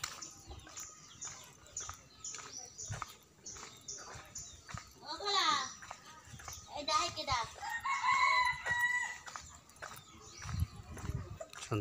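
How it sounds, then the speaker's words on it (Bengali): A rooster crowing nearby in a village with mud houses, a couple of clear rising calls mid-way through, while a voice talks intermittently over faint outdoor background. "শুনতে পাচ্ছেন মোরগ ডাকছে।"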